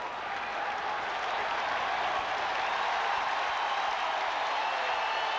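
Steady wash of applause and cheering from a packed football stadium crowd at a 1987 Raiders–Packers NFL game, dense and sustained at an even level throughout, with no talking in the foreground.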